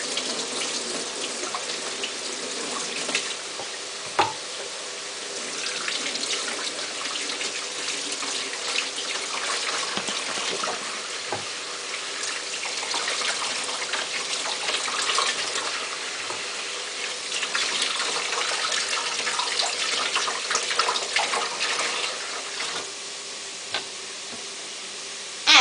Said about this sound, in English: Wash your celery very well.